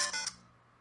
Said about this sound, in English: That's my phone ringing